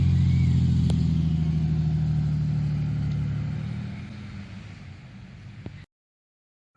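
A 1982 Ford Capri 2.8 Injection drives past on a road in Warwickshire. Its engine starts as a loud, close rumble and fades steadily as the car moves away, and the clip ends in near silence.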